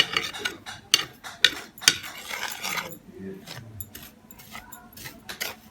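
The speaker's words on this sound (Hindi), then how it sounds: "चलिए मसालों को मिक्स करते हैं" Dry tikka masala spices being stirred and mixed for about two kilograms of chicken tikka boti, giving a close scraping, rasping and clinking rhythm with several sharp taps early on and softer rubbing later.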